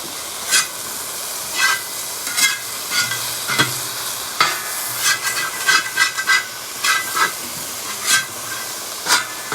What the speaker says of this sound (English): And that moisture from the vegetables is deglazing the pan.